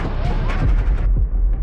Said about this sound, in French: 2000 canons ouvrent le feu